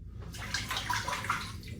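Hot water running from a tap into a bathroom basin, a brief steady splashing stream at low level, with no one talking.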